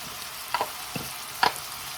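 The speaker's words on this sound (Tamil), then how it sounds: "இது நல்லா ஃப்ரை ஆகணும்" Whole garlic fries in oil with coarse rock salt, making a soft, even hiss with a few quick, sharp crackles and clicks from stirring.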